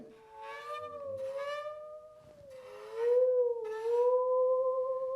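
Musical saw sliding between wavering tones in swelling phrases, mimicking a train whistle calling, with faint rhythmic tapping underneath.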